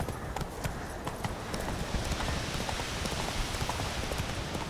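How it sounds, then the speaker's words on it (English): Hooves of a horse galloping in The Witcher 3 video game thud in a steady, quick clip-clop rhythm over a constant windy, rain-like rush, with no voices. "Run, Roach"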